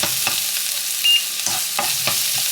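Curry is stirred and fried in a pan, a steady loud sizzle with several scraping stir strokes at irregular intervals and no talking.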